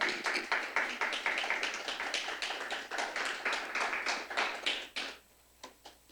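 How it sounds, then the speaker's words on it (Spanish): A church congregation claps rhythmically together, a quick steady series of sharp claps for about five seconds, then a few scattered final claps fade into quiet. "¿Le puede dar un fuerte aplauso al Señor?"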